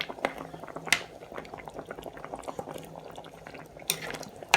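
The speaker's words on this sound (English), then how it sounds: "Can you hear the way it's bubbling?" Catfish pepper soup with scent leaf bubbling in a cooking pot, a steady close simmer of popping bubbles and liquid gurgles with a few louder pops, no talking.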